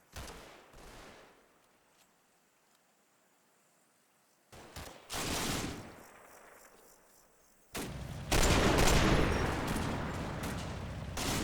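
Small arms fire crackles across a dark battlefield in the Combat Mission wargame, scattered distant shots giving way to louder, denser bursts of gunfire toward the end.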